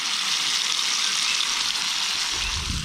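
Pineapple chunks and fish sizzle steadily in a hot pan, a close, dense frying crackle that runs without a break.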